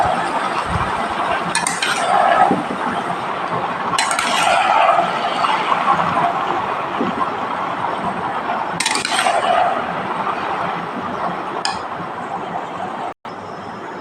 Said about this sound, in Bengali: এবারে এটা আমি ভালো করে মশলাটা চারিদিক দিয়ে